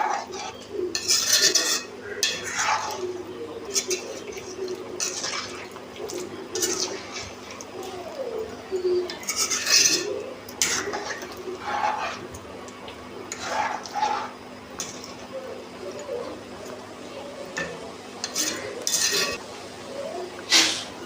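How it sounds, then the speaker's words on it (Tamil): A spoon stirring chicken curry in a pot after milk is poured in, with irregular metallic clinks and scrapes against the pot over a faint background hum, close and moderate. "பாலை விட்டுட்டு நல்லா கிளறி விடுங்க."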